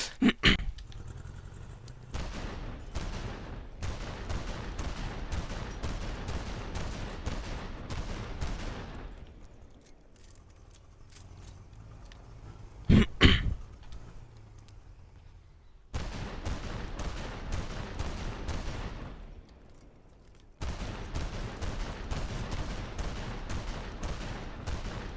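Heavy gunfire in War Thunder tank combat, with dense bursts of rapid automatic fire and booming shots in loud stretches broken by quieter gaps, plus a sharp blast partway through.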